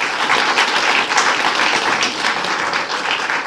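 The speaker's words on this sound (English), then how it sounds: "Give an applause to her." An audience at a debate on the war in Ukraine, held at Pletterij in Haarlem, claps for a speaker in a dense, steady round of applause that fills the whole moment at close range.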